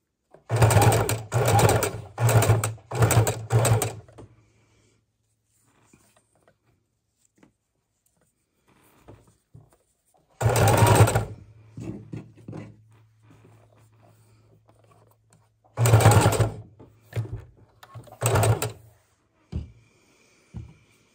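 A sewing machine stitches paper junk journal snippets together in short rapid bursts: a run of four quick stitching spells, a pause, then two more bursts with soft handling noises between, close and clear.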